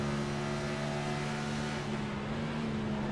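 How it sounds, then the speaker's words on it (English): A race car at Darlington Raceway holds a steady engine drone at moderate distance, with pitch shifts marking gear changes through the run. "Oh, she's shifting also"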